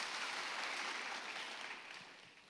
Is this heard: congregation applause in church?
yes